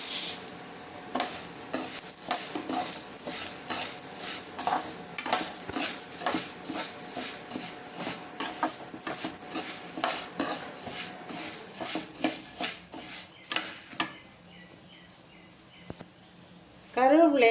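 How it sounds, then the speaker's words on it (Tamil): Urad dal roasting in a dry pan, heard as steady scraping and stirring strokes with faint sizzling and light clinks of a utensil against metal, close and continuous, ending in a louder burst near the end. "இப்போ உளுந்தை போட்டு வறுத்து எடுத்துக்குவோம்."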